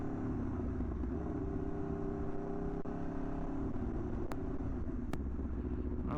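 An Aprilia RSV4 1100 sport motorcycle warming up holds a steady, low idling rumble throughout, close and even, with a couple of faint sharp ticks near the end and no talking.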